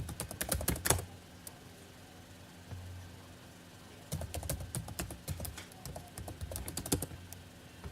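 Keys clatter on a computer keyboard as a command is typed, quick bursts of close clicks at the start and again in the second half, separated by a quiet pause with faint background hum.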